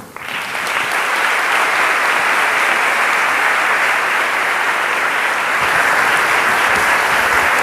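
An audience breaks into loud, sustained applause to welcome Dr. Martin Seligman at a lecture in Colombia; the clapping rises quickly and holds as a dense, even roar.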